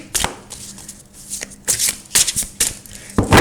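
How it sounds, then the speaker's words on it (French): Tarot and oracle cards being shuffled by hand, with a quick series of crisp riffling and slapping bursts at an uneven rhythm, close and fairly loud. "Alors d'abord, on va mélanger les cartes."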